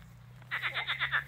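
Frogs croak in a quick rhythmic series of about six pulses, close and fairly loud over a low background hum, near a river in Crimea.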